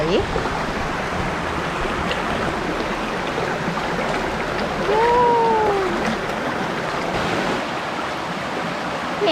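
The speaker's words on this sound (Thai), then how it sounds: "และลำธารนะคะ" Steady broadband rush of a clear stream running over rocks in a forest at Mae Lai village, Chiang Mai, continuous throughout with a brief faint tonal chirp midway.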